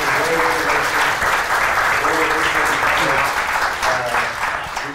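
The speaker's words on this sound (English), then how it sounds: "I want everybody to give a round of applause for Stone." An audience at an SEO talk breaks into a round of applause, loud sustained clapping from many people with a few voices faintly mixed in before it tapers slightly at the end.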